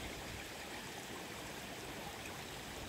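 Waterfall in the Amazon rushing steadily, a constant broadband hiss of falling water that fills the whole clip without pause. Heard alone, at a fairly soft level.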